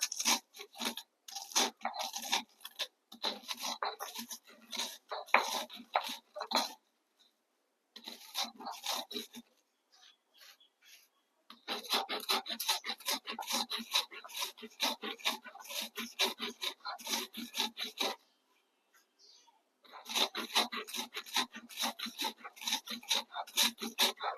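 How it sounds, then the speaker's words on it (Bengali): Crispy ingredients for a mashed vegetable bharta are ground by hand, producing close, rapid rasping scrapes in rhythmic bursts of several seconds, separated by short pauses. "এভাবে করে আমি বেটে নিব।"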